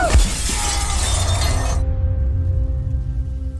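Glass shatters loudly as a hotel waiter is thrown out through a window, a sharp crash at the start with bright debris ringing for nearly two seconds before cutting to a low, steady rumble.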